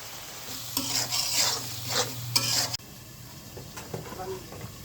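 Spice powders stirred in a hot oily frying pan for egg curry, a steady sizzle with scraping strokes of a spoon that stops abruptly, leaving quieter kitchen noise.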